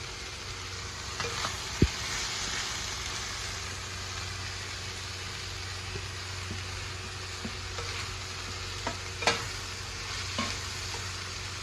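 Masala and fish pieces frying in a pan, a steady low sizzle running throughout with occasional scrapes and clinks of stirring, no talking.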